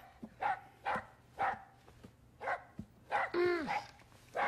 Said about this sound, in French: Le chien de Nina m'exaspère